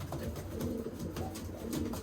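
Racing pigeons coo softly in a loft, a few low rolling calls repeating close by over a steady background, with no talking.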